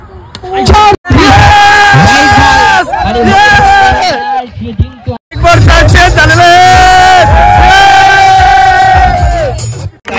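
Crowd at a village tennis-ball cricket match cheering loudly, with massed voices whooping and shouting almost continuously. There are two brief breaks in the noise.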